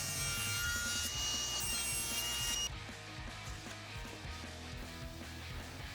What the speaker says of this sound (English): going to go over to the chop saw, and we are going to cut everything to final length.